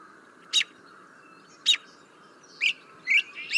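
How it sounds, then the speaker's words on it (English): A northern mockingbird repeats the same short, high chirping phrase four or five times at spaced intervals, fairly faint against a quiet outdoor background. "what you're going to notice with mockingbirds is they often perform the same song maybe 2 to"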